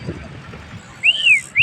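Sharp whistle blasts at a cricket match ring out after a stretch of low background rumble, first a drawn-out arching tone, then the start of a second blast.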